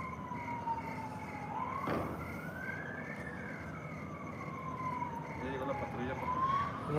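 An ambulance siren wails, rising and falling steadily in the distance, mixed with street noise and a brief nearby clatter.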